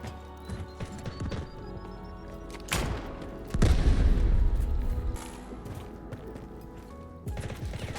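Gunfire in the military shooter Delta Force, heard as scattered sharp shots and a louder sustained burst of booming fire mid-clip, with quieter pops before and after.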